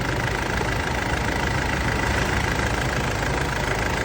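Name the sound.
2002 Mitsubishi Pajero Field Master engine running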